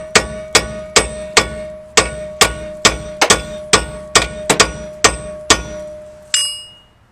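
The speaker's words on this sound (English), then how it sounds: "keep this nut on and just beat like this" A hammer beats on a nut threaded onto a Porsche Boxster wheel upright. About fifteen loud, sharp metallic clangs land in a steady rhythm with slight ringing, ending with a final higher, lighter clank.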